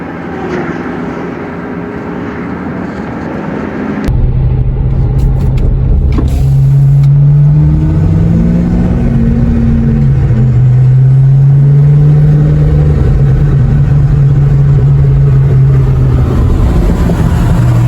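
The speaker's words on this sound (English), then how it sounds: "It's an LX. It's got Mach 1 wheels on it." A Ford Mustang LX 5.0 Foxbody V8 starts up partway through, then idles with a loud, steady, close rumble.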